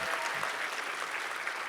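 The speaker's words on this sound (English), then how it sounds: "No, clap for it." A convention panel audience claps in a brief, dense burst of applause from many hands in a large hall, loud and steady throughout.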